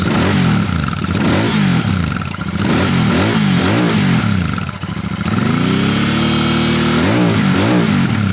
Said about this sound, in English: The Enfield though, combined with the air cooling, has a 270-degree crank, and that's known to give bikes a bit more soul and feel.